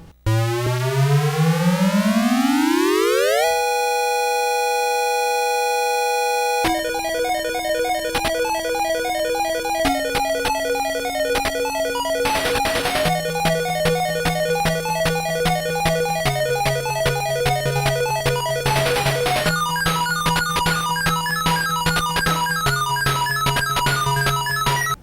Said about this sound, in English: The opening ditty is just about as intense as you'll hear on the Master System.